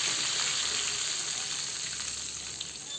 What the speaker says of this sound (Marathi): पहा, एकदम मस्त अशी कसं तडका बसला पाहिजे असा मिरचीला